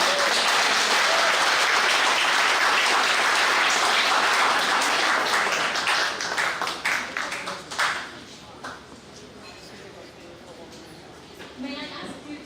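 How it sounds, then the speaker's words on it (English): Large audience at an NFL honoree event applauding to welcome a speaker to the stage, dense sustained clapping that thins into scattered claps, with a few claps returning at the end. "With a round of applause, let us please welcome Mr. Sam Crenshaw to the stage."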